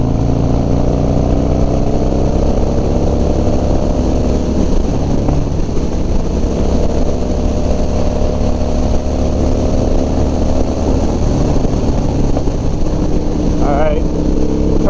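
Harley-Davidson Dyna motorcycle engine on a shakedown ride, a loud continuous rumble with steady droning tones and wind rush, close and constant throughout.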